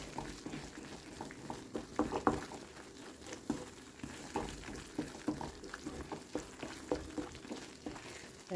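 A thick ghee-based sweet prasadam stirred in a pan, giving a quiet, bubbling sizzle with soft, irregular scraping and gloopy patters repeating throughout.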